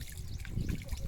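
Water trickling in from a pond, a soft continuous dribbling and gurgling that stays close and fairly quiet, with faint low rumbles underneath and no talk over it.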